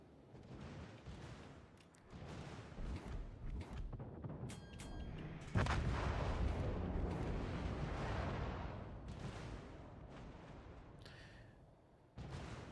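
Battleship main guns firing in World of Warships: Legends, deep booming salvos that roll into a long rumbling roar, with scattered impacts and interface blips around them.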